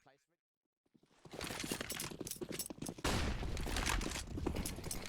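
Rapid bursts of gunfire from a CS:GO professional match, with a dense barrage of shots crackling after a brief quiet start and a voice speaking over the action.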